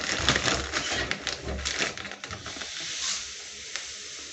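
Caster sugar is stirred into milk in a bowl for an eggless lemon cake: gritty scraping and crunching strokes, close and busy, that trail off into a softer hiss.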